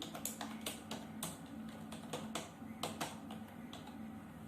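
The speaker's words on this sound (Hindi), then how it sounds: "कीबोर्ड से टैब बटन प्रेस करेंगे और लिखेंगे हिंदी टाइपिंग।" Computer keyboard typing while formatting a table in MS Word, including Tab key presses: a run of quick, light key clicks at an uneven rhythm, close and fairly quiet, with no talking.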